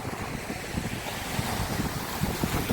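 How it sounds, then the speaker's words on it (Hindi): Sea waves washing onto a shore at Fort Kochi, Kerala, with a continuous rushing roar, wind buffeting the microphone, no voices. "अच्छी लहरें आ रही है मेरी बैक साइड में"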